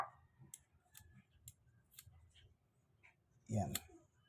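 Scissors snip at a steady rhythm, faint and close, with a louder cutting burst near the end, while a person talks quietly in a home setting.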